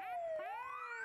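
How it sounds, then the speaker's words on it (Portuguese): Siren sound effect played on a TV news show: a single wailing tone that dips and then rises again, steady and fairly faint, with no voices over it. "Cadê a sirene, meu filho?"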